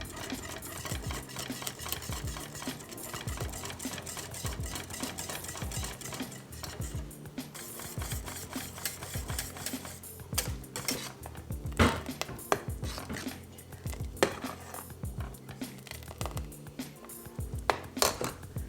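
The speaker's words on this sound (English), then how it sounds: "add back to the sütlaç, again stirring continuously and adding little by little." A spoon stirs Turkish rice pudding, sütlaç, continuously in a pot as a warmed mixture is added little by little, giving repeated close scraping and clinking strokes in a steady rhythm.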